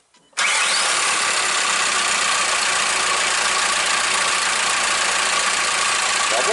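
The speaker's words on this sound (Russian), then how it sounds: "Работа двигателя на холостых оборотах." A VW Transporter T turbodiesel van engine (BRS) starts up after a brief quiet moment and settles into a steady, loud idle with a clattery, knocking rumble, close by.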